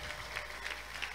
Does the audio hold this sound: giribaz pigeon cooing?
no